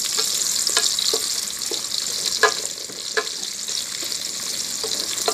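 Chopped onions sizzle steadily in a hot pan for chicken tinola, a close, even frying hiss broken by occasional sharper pops and crackles, with no talking.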